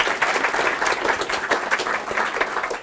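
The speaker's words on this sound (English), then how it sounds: "give a round of applause" Steady applause from a meetup audience gathered for a Docker talk, many hands clapping in a continuous dense wash of moderate loudness, with no voices over it.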